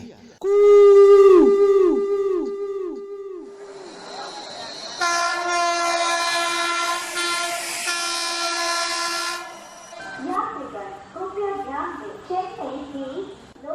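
A loud train horn blares, then a sustained whistle-like tone, followed by rhythmic voices chanting or imitating the train.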